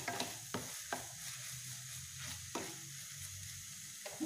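Okra and egg fry in a pan, with a utensil stirring them through the hot oil. Sharp scraping strokes come at uneven intervals over a soft, continuous sizzle, close up and with no voices.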